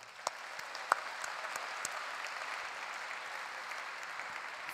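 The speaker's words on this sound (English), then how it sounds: "a special round of applause for all those who were in some other costume" Steady audience applause at a live prayer gathering, a dense continuous patter of many hands clapping at moderate distance with no voices over it.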